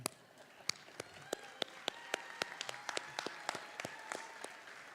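Sparse, scattered hand claps from a few audience members at the Tempe Diablos Excellence in Education Awards, faint and irregular, with individual sharp claps standing out over a quiet room.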